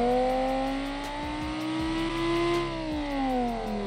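A 430-horsepower car in the BeamNG.Drive driving game, with stability control off and very short gears, revs with a steady rising engine whine that climbs in pitch, dips briefly, then climbs again.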